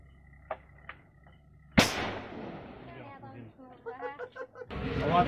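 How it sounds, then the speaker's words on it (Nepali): A homemade gun lit with a lighter goes off in one sharp, loud bang that decays quickly after a few quiet clicks, followed by people talking nearby. "बन्दुक चाहिँ पट्कने तयारी अवस्थामा छ। ल हेर्नु कसरी पट्कन्छ।"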